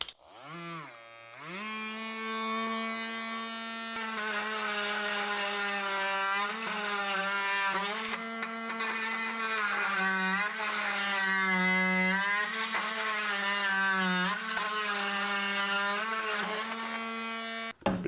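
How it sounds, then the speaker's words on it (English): Bauer 20-volt power saw with a new Diablo wood-cutting blade running at full speed, a steady close whining buzz with a rising pitch at the start, holding for about sixteen seconds before cutting off. "Brand new Diablo wood cutting blade there."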